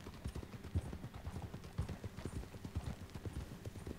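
Horse hooves clip-clop steadily while riding in Red Dead Redemption 2, an even, continuous trot rhythm at moderate distance, quiet and alone.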